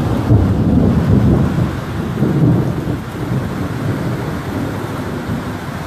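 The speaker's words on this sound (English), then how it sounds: "This is a severe warned thunderstorm, guys." Heavy rain pours steadily under a deep, continuous rumble of thunder from a severe thunderstorm in South East Queensland, with no voices present.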